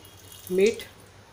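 A brief splash of half a cup of water poured into a cooking pot, lasting under half a second against a quiet room.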